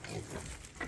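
A pig grunts on a small farm, a few quick low snorting oinks close by and fairly faint over a short moment.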